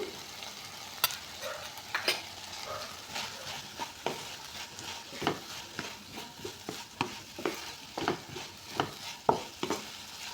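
Chicken fried rice is stir-fried in a pan, soft steady sizzling punctuated by repeated sharp spatula scrapes and taps in an uneven rhythm, close and fairly quiet.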